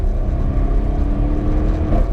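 A car fitted with an upgraded Akrapovic exhaust system, apparently a Porsche Panamera Sport Turismo or an Audi RS6 Performance, gives a steady, loud, deep exhaust rumble close by, with no one talking.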